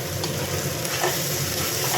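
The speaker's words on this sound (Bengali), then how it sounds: "আলু আর মটরশুঁটির পুরটা একটু ভালো করে নেড়ে নিচ্ছি" A potato and green pea filling is stirred in a hot pan, giving a continuous close sizzle with the scrape of a spatula moving through it.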